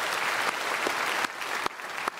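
Congregation applauding during a Sunday church service, a dense, even clatter of many hands from a sizable room that carries on for the whole stretch, with small dips in between.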